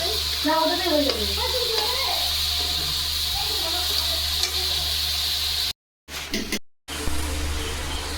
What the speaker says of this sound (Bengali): তেল আর ঘি গরম করা হয়েছে আর তার মধ্যে তেজপাতা গোটা গরম মশলা ফোড়ন দিয়ে বিনস আর গাজরটা ভাজা হচ্ছে